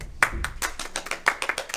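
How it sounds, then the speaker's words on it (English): Webinar participants clap for themselves: a handful of sharp, separate hand claps, uneven in rhythm and close to the microphone, from only a few people. "Give yourselves a round of applause."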